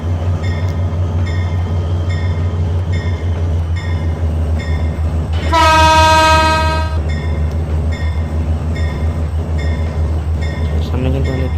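A locomotive on the Barind Express from Rajshahi to Chilahati sounds one loud, sustained horn blast over the steady low rumble of the idling engine, which drones on alone before and after.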